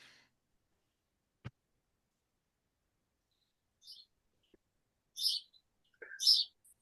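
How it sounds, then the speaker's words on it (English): Bird outdoors heard as a few faint, sparse chirps and tweets late in the clip, with a single soft knock earlier and near-silence in between. "Has someone got a bird in the background?"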